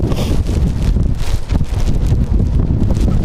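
Strong wind roars at Edinburgh Airport on a wet, stormy day, battering the microphone with loud, gusty rumbling and rustling that rises and dips constantly and never lets up.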